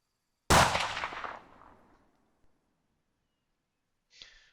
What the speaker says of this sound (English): we'll send another shot to the target in just a second